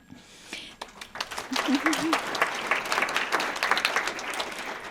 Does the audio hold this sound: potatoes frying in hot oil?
no